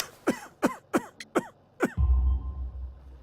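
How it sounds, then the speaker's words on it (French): A character in the Sherlock Holmes: The Devil's Daughter video game, a worker with coal dust in his lungs, coughs in a quick series of about six harsh, close bursts, then clears his throat into a lower rumbling rasp. "Vous avez une mauvaise toux."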